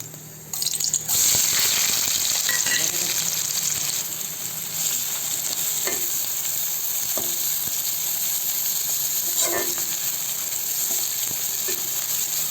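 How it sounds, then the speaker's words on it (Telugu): Onions sizzle steadily in hot oil with cinnamon and cloves for a chicken gravy, a continuous fry with occasional stirring clinks and scrapes, close and fairly loud, no voices. "ఒక 3 నిమిషాల పాటు బాగా మనము వేగనివ్వాలి ఎర్రగడ్డలు"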